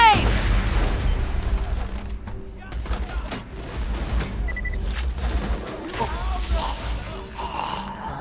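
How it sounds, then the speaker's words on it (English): A grenade goes off in the shooter game Borderlands 2 with a loud, booming blast, amid continuous gunfire, rumbling game noise and character voices. "Throwing grenade!"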